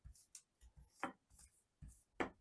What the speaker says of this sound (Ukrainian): і розрівнюємо уже безпосередньо качалкою